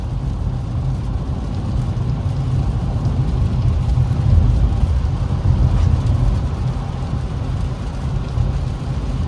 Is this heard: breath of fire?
no